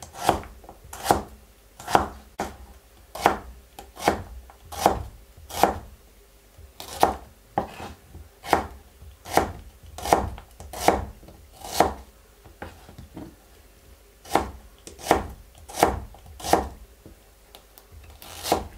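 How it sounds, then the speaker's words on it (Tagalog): A very sharp knife chops garlic on a cutting board, about two dozen crisp, evenly spaced strikes at a steady rhythm, close and clear with no talk. "Hiwa po tayo ng panggisa natin."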